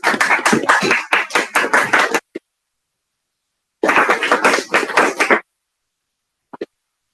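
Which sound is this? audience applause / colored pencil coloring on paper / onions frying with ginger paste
audience applause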